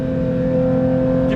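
A Porsche 911 GT3 with a single exhaust holds a loud, steady high-rpm engine tone close by, with strong sustained harmonics and no voices.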